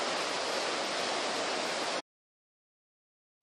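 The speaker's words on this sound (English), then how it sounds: "That right there is the river." River flowing outdoors near a gold-prospecting site, a dense steady rushing hiss for two seconds that cuts off abruptly into silence.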